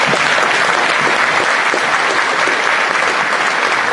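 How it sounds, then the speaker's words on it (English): An audience at a PhD defense breaks into sustained applause, a dense, even wash of clapping that stays strong throughout, with no talking over it. "And then deserve the next round of applause."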